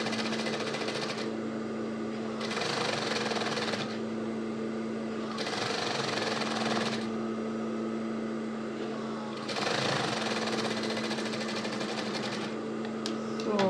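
A sewing machine stitching fabric for a headband runs in four steady bursts of whirring with short pauses between them, up close over a low background hum.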